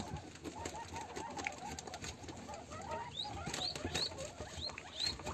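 Guinea pigs chew on stalks nearby, a soft, busy patter of small crunching bites with a few high squeaks, faint and steady throughout.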